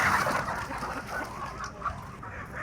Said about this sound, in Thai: นี่เป็นแม่ค้าลาวเอาไก่มาส่ง